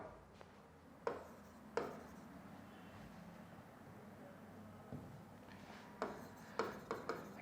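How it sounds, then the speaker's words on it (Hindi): Chalk writes a sentence on a board in a series of short scratching taps and rubbing strokes, sparse at first and then quicker near the end, heard close over a quiet room. "मैं एक सेंटेंस लिख रहा हूं"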